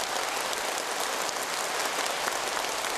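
Congress participants applauding in a large hall, a dense, sustained roar of many hands clapping at once, steady and loud throughout with no voices.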